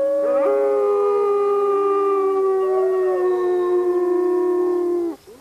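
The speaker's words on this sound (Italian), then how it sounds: "Il loro ululato è un modo per comunicare con altri lupi anche a grande distanza." Wolves howl in long, sustained, wavering notes that overlap as several voices sound together, loud and continuous, before cutting off abruptly near the end.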